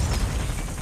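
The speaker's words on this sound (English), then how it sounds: "Changing mag!" A weapon magazine swap in Call of Duty Mobile, heard as a short burst of close mechanical clicks and clacks against a low rumbling game background, lasting under a second.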